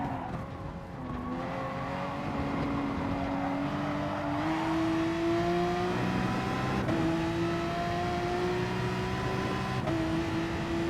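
Group 3 race car engines at Dragon Trail Seaside in the game Gran Turismo Sport: a loud, continuous whining drone that climbs in pitch and dips briefly at each gear change, with no talking.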